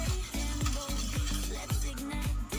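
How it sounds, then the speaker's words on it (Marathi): Two beaten eggs whisked briskly in a bowl, a fast regular series of close, loud clicking strokes of utensil against the dish with a wet, sloshing undertone. "मी इथं 2 अंडे फोडून घेतलेले आहेत. ते अगोदर आपण व्यवस्थित मिक्स करून घेऊया."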